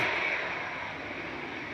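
A Cathay Pacific airliner taxiing at Manchester Airport, a steady distant engine roar with a faint high whine, holding even and slowly easing off over under two seconds.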